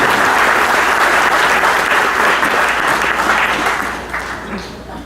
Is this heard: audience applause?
yes